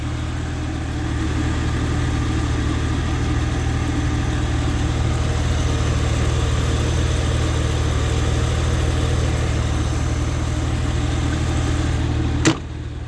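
Car engine idling steadily after a cold start, a constant low hum and drone close by, with a brief sharp click near the end and no talk.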